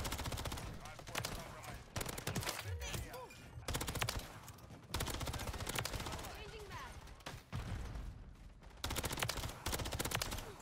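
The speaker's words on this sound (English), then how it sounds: "A suppressed shotgun is very different." Suppressed shotgun fire in Call of Duty MW3 ranked play on the Rival 9 class, heard as repeated dense bursts of gunfire across the clip with brief gaps, loud and continuous, mixed with game noise.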